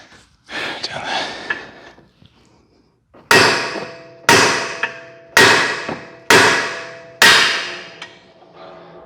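Five sharp metallic hammer strikes on a punch, freeing a crusty bolt during an adjustable rear toe arm install, ring out at a steady pace, each with a short ringing decay, after a brief stretch of handling noise.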